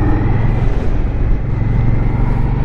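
A Ducati Scrambler 1200cc motorcycle engine drones steadily while riding, a loud, close, continuous low rumble mixed with wind noise.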